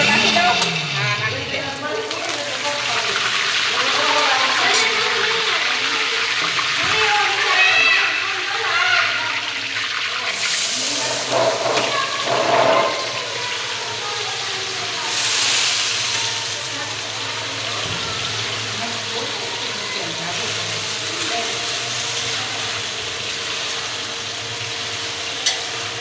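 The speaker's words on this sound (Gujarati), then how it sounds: "અમારા મનીષાબેન કરી રહ્યા છે વઘાર." Vaghar in a home kitchen: curry leaves tempered in hot oil give a loud, close, steady sizzle and crackle that swells near the middle and then settles, with voices faintly underneath.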